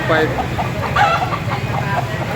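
A young gamecock stag clucking at a busy outdoor poultry market in Padre Garcia, Batangas: short repeated clucks close by, over steady crowd murmur and people talking.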